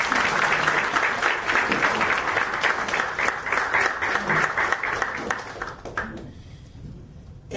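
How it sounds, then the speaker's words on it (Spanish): An audience at a lecture claps warmly for the speaker, the applause strong and sustained for several seconds before thinning out, with a few voices mixed in. "Yo pido un fuerte aplauso para el maestro."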